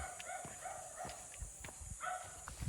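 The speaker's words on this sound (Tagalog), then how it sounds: "Kahol ng aso lang ang maririnig." Faint dog barks echo from a distance, several short yaps spaced irregularly over a quiet outdoor background.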